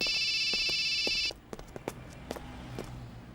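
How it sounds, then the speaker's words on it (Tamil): A telephone rings with an incoming call, its bright electronic ringtone steady and loud for just over a second before cutting off, followed by scattered clicks and light handling noises in a quiet room. "தலை தாண்டா ஃபோன் பண்றாரு பேசுறா பேசுறா சீக்கிரம்"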